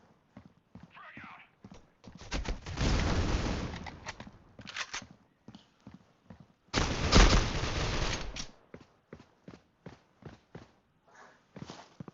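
Bursts of automatic gunfire in the mobile shooter game Critical Ops, two long loud volleys and several short clipped shots and taps in between, with no talking over them.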